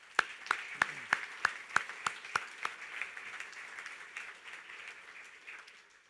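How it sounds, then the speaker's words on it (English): Sparse applause from a press-conference audience at the Henry Ford Center for Athletic Medicine, about a dozen distinct claps in an even rhythm at first, then softening into a faint, thinner patter as it fades. "they deserve our applause"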